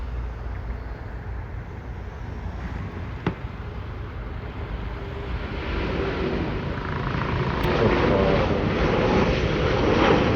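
A British Airways Boeing 787-8 airliner at Delhi Airport, its broadband jet engine roar steady and fairly loud, swelling gradually toward the end.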